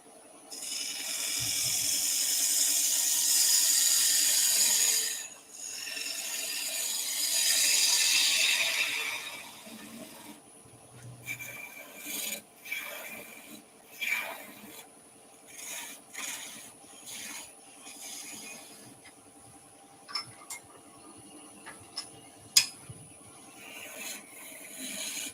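A wood lathe spindle cleaning a turned surface: a steady rushing, abrasive hiss in two long stretches, then quieter intermittent scraping and light clicks, close by with no talking.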